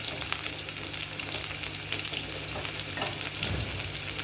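Shallots sizzle and crackle steadily in hot coconut oil with popped mustard and fenugreek seeds for sambar, a close continuous frying hiss with a low hum and a stir near the end.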